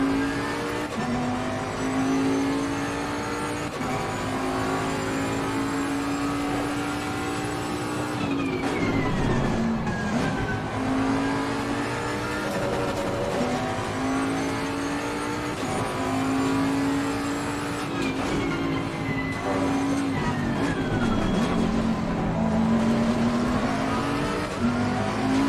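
A car engine drives steadily and loudly, its pitch rising and falling through gear changes, with occasional tire squeal and no talking over the continuous roar.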